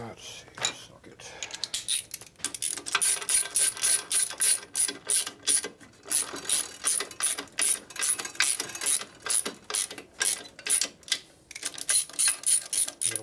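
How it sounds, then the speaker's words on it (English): A socket ratchet loosens fasteners on a 1965 Harley-Davidson 74ci FLH panhead engine during a rebuild, giving close, repeated metallic clicking strokes in steady bursts with short pauses and clinks of tools between them. "loose. Let's see, socket."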